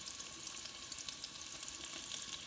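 Meat searing in a hot oiled pan, a steady bright sizzle and crackle with faint stirring, close and even throughout, no voices.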